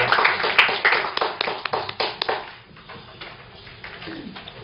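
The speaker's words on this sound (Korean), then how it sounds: "박수로 환영해 주시기 바랍니다" An audience claps to welcome speakers at a New Year economics forum, a burst of close, dense applause that thins to scattered claps and fades within a few seconds.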